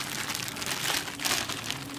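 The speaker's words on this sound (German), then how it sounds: "Ich habe natürlich auch wieder meine altbekannte Tüte dabei, damit ich hier alles wieder schön durchkneten kann." A plastic bag crinkles and rustles up close as burger meat is kneaded inside it for an XXL double cheeseburger cooked over a campfire, a steady crackling texture with no talk.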